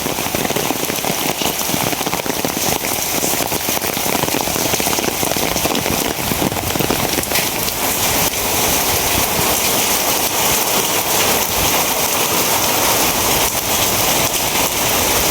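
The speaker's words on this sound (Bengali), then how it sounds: "আবার বাতাস শুরু হয়ে গেছে, বৃষ্টি প্লাস বাতাস দুটোটা একসাথে।" A loud, steady downpour of heavy rain roars without pause, with gusting wind mixed into the dense hiss.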